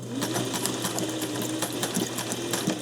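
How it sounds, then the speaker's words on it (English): A sewing machine stitches a narrow zigzag stitch while quilting hexagon pieces, a steady, close, continuous mechanical whir with a fast regular needle rhythm and no talking. "I also put it back on the narrower zigzag stitch."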